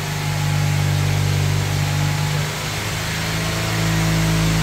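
Toyota Avanza engine revving during a carbon cleaning treatment, a steady loud drone that swells and eases as the throttle is worked, running alone without talk.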